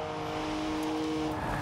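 A car in the racing game Forza Horizon 4 holds a loud, steady engine drone at high revs with a sustained tonal whine, close and continuous, with no talking.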